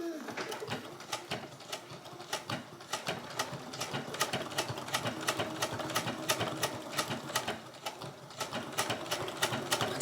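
A domestic sewing machine stitches along a Velcro edge in quick, regular needle strikes that run steadily for several seconds, close and moderately loud, with faint bird coos in the background.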